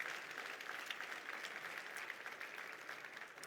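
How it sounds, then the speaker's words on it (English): A church congregation applauding, a sustained wash of many hands clapping at a steady moderate volume, slightly distant, with no talk over it. "hey, we can clap for that and celebrate that"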